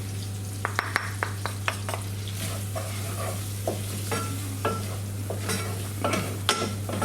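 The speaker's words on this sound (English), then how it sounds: "Now I'm going to put the put some of the red chili and turmeric into it." Prawns fry in garlic oil with red chili and turmeric, a steady close sizzle broken by sharp clicks and scrapes of stirring against the pan.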